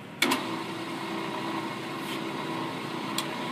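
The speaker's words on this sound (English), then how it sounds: "and I want to turn the lathe on." A brake lathe starts up to machine a brake drum, with a sharp click at switch-on followed by a steady whirring motor drone and a faint tick later on.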